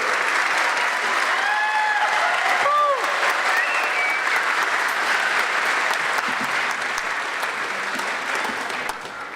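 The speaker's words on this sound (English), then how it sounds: "A big applause, please, for Miss Kim Lamoureux." Audience applauding at a city holiday concert, a dense, steady wash of clapping that holds for the full stretch and eases off slightly at the end, with a few faint tonal sounds heard briefly near the start.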